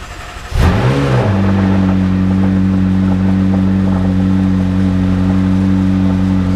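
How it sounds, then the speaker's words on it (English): A McLaren 675LT supercar fires up from a cold start with a sharp, loud blip of revs, then settles into a steady, droning high idle close to the microphone. "the car is absolutely, sounds amazing when it's on cold start and at full throttle"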